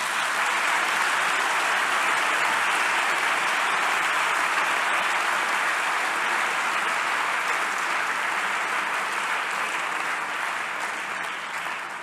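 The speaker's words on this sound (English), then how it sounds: "A big applause for the people." Sustained applause from the audience at a closing academic plenary, a thick, even wash of many hands clapping that continues steadily for the whole stretch without any voices.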